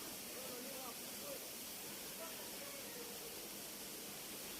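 A waterfall in a Nepal jungle, its sunlit water heard as a steady, even hiss and rush of falling water, fairly quiet and constant, with no other sounds standing out.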